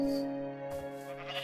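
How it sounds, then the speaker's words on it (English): A donkey in the Resonant Rise modpack of a video game brays once: a short, loud, nasal, bleating call with a strong harmonic tone that fades after about a second. "Donkey."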